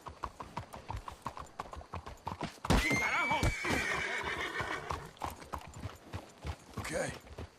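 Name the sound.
horses clip-clopping and neighing in Red Dead Redemption 2 video game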